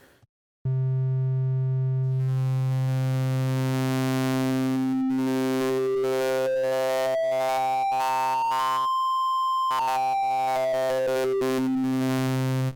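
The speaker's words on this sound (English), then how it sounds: "apply a bit of shift, and then you'll hear how we can create a different timbre or tone for our sound" A UVI Falcon 2 virtual analog oscillator in hard sync plays a sustained buzzy tone whose harmonics sweep upward as shift is applied. Its bright partials glide and break apart, cut by one brief dropout before the sweep resumes.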